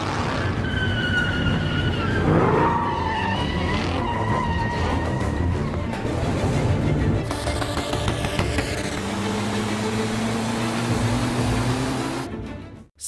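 Cars chase each other in an action film, engines roaring close and loud with long screeching tire skids and squeals, followed by a revving race-car whine.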